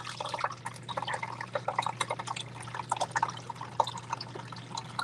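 Water flowing and dripping, a busy stream of close splashy drips and trickles running continuously over a low steady hum.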